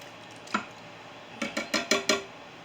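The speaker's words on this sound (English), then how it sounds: "Next, I'm going to add a 20-ounce can of petite diced tomatoes." Petite diced tomatoes from a 20-ounce can drop into chili in an Instant Pot with a single soft clink, then a quick run of five light wet taps and knocks close by, with no talking.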